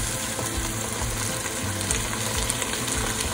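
Garlic, onions and carrots sizzling in a hot pan for a healthy shepherd's pie, a loud, dense, continuous frying hiss with faint crackles, close up and uninterrupted.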